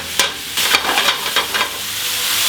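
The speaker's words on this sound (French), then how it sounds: "Les épinards dans la poêle." Spinach and mushrooms stirred in a frying pan, loud close hissing sizzle with a series of quick scraping strokes from the turning, then a steadier sizzle.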